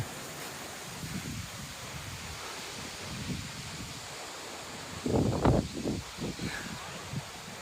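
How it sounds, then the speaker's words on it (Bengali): Wind blowing across open village ground just before rain, a soft steady rush with gusty rumbles buffeting the microphone. "বাতাস যা চালাইতেছে"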